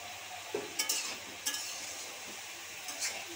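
Ash gourd (chal kumra) stirred in a hot pan, with a soft sizzle under a few brief scrapes and clinks of the spoon against the pan; no talking.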